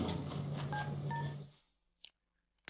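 Telephone dialing in The Sims 3 game: a short series of faint keypad tones over a low hum, then near silence broken by a couple of soft clicks.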